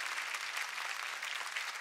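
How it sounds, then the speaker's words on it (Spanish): Studio audience on a 1996 Spanish-language TV variety show giving a warm round of applause: dense, even clapping that continues throughout without pause. "le damos un aplauso muy fuerte y cariñoso"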